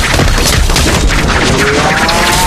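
An ultimate skill attack unleashed in the mobile martial-arts game Moonlight Blade M: a loud, dense wash of booming impacts and crashing bursts with a faint rising whistle, filling the whole moment without pause.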